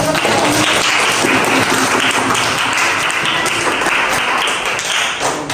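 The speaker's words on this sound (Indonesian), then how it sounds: "Kita beri tepuk tangan dulu" Dense, steady applause from a crowd, a continuous wash of many hands clapping at once, loud and sustained throughout.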